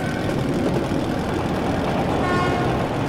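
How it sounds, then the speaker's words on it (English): An approaching train rumbles loudly and continuously in the Metro Last Light Redux video game, a dense engine roar with a faint whistle-like tone near the end. "That's the train!"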